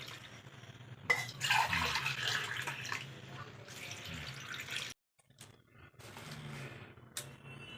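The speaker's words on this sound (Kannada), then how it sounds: "ಈ ಗ್ಲಾಸೇ 3 ಗ್ಲಾಸು ನೀರು ಹಾಕ್ಕಂತ ಇದ್ದೀನಿ ನಾನು." Water poured from a glass into a cooking pot for village-style greens and lentil saaru, three close splashing pours separated by short pauses, with faint background sounds and no talk.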